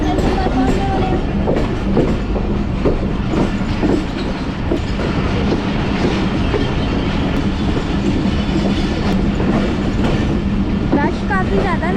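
Awam Express 12DN passenger train between Taxila and Lahore, rumbling and clattering steadily on the rails as it nears a station, loud and continuous throughout, with faint voices now and then.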